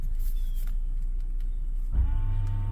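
A 2012 Ford Edge sits over a low, steady rumble while its brakes are bled. About two seconds in, the ABS pump kicks on with a close, sustained electric motor whine that carries through to the end.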